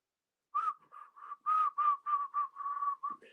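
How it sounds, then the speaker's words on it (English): A person whistles a simple tune alone, a run of about a dozen clear, close notes, some short and some held, with brief gaps between phrases. "and a lot of whistling."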